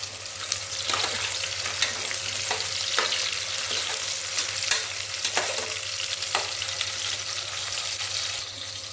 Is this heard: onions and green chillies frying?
yes